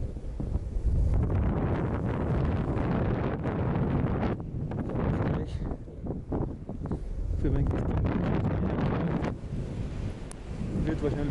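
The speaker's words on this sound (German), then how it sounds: "Aber es ist Wind, ich kann fahren." Strong wind buffeting the microphone while snowkiting on a hazy day in Obertauern, a loud continuous roar with gusty swells and brief dips, close and rumbling.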